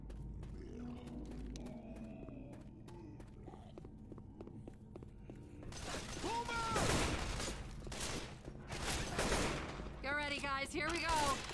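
Rifle gunfire in Left 4 Dead 2, a cluster of sharp shots bursting out in the second half amid game noise and chaotic clatter, following a quieter stretch with faint ambient sounds.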